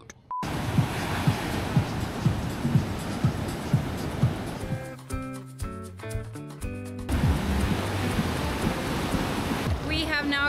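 Ocean surf on a beach in Palomino, Colombia, with a continuous wash of breaking waves and rhythmic surges, interrupted midway by a burst of music and other foreground sounds.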